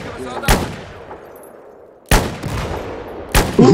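Three sharp, loud gunshots from a shooter game, spaced unevenly with the last two closer together, each with a ringing tail.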